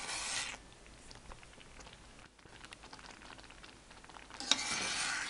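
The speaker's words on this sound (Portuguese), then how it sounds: "eu tô mexendo de, no máximo 2 minutinhos, eu tô mexendo aqui" A spoon scrapes and stirs rice-milk condensed milk in a pan, producing quiet, irregular rubbing and light bubbling, with brief louder bursts at the start and near the end.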